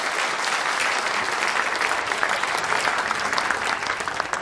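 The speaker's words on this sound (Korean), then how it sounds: "큰 박수 부탁드리겠습니다." Dense, sustained audience applause fills a hall at the People Power Party convention nominating its 20th presidential candidate, steady and loud throughout with no voices standing out.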